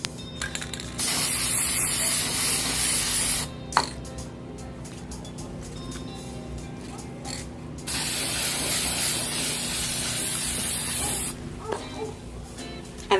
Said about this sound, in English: So let's get to spray painting.